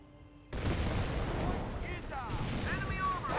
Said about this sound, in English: So a large barrage over here, but missed everything